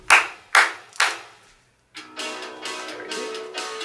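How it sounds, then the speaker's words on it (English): Children clap their hands three times in crisp, evenly spaced claps at a storytime session, followed by a short pause and then an adult voice speaking. "clap your hands 3 times."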